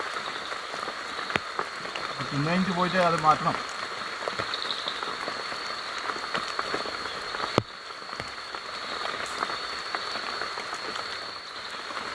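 Heavy rain pours through a forest campsite as a steady broadband hiss, with a short burst of frog-like croaking early on and someone speaking intermittently over the downpour.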